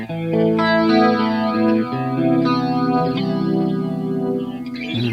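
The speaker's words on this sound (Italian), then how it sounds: "Quindi sommati questi due chorus già ottengo questo effetto e siamo già molto in ambito anni 80" An electric guitar runs through two stacked chorus effects for a shimmering 1980s tone. Sustained chords and notes swirl and waver in a thick, wide wash that plays loud and steady throughout.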